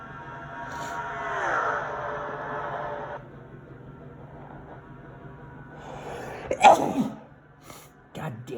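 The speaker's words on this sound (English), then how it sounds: "That sneeze came out of nowhere" A sudden sneeze bursts out from a person mid-session during an online sim race at Charlotte, preceded by quiet background hum and a murmured voice, then followed by a brief clatter.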